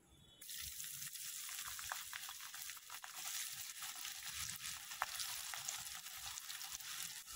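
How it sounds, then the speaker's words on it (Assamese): Crisp slices of bitter gourd fry in a pan, giving a steady, dense sizzle that starts abruptly after a brief quiet moment and holds strong and close throughout, with no voices. "এইদৰে মই আটাইখিনি তিতা কেৰেলা ভাজি ল'ম।"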